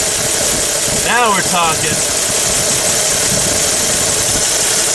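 A Chevy 235 straight-six engine running and revving steadily at close range, a continuous mid-pitched mechanical drone under a brief spoken remark.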